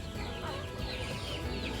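Chickens on a free-range backyard farm clucking in a continuous, busy mix of overlapping calls, moderately close with a steady ambient background and no talk.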